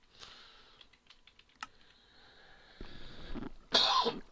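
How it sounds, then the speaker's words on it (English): A single person coughs near the end, a brief harsh burst after a stretch of soft keyboard typing and clicks, with a throaty rasp just before it. "First we'll have a good cough."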